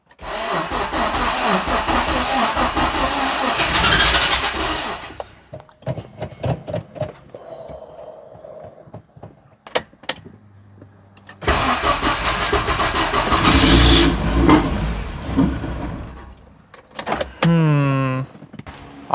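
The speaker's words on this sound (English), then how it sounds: "I think it's time to start the Prelude up for the first time" A Honda Prelude cranks and fires for its first start, a loud close burst of engine noise, then clicks and quieter mechanical sounds, followed by a second long loud run of engine noise and a rising whine near the end.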